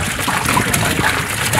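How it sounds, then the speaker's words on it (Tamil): Water pours into a cooking pot for traditional mutton biryani: a close, continuous trickling splash that runs steadily through the moment. "நம்ம தேவையான அளவு வாட்டர் அதில் ஆட் பண்ணுறோம்"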